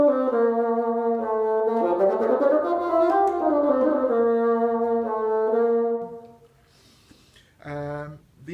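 A bassoon plays the opening solo of Mozart's bassoon concerto, a smooth, sustained melodic line of several connected notes that rises and falls, followed by a pause and one brief final note.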